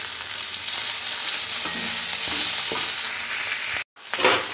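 Chopped tomato sizzles into frying mutton masala with a bright, dense hiss close by, a few stirring scrapes, and a brief cut to silence before the frying resumes.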